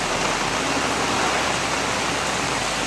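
Heavy typhoon rain pouring down in Camarines Norte during Typhoon Kristine, a dense, steady roar of water with no breaks, loud and close throughout.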